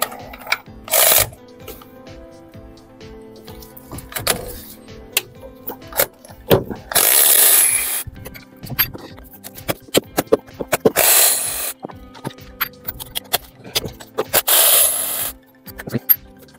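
Ratchet loosening 16 mm head bracket bolts on a Ford Transit Connect engine during a timing belt change, heard as close clicking pawl runs and metallic ticks with a few louder bursts as bolts break free.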